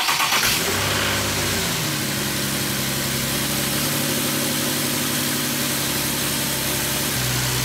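A Nissan 350Z engine cranks and starts after a fuel pump and return line upgrade, then settles into a steady, loud idle close by, with a brief rev near the end.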